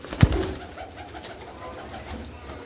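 Pigeons at a rooftop loft coo in low, soft murmurs, starting with a brief sharp knock before the steady, fairly faint cooing carries on.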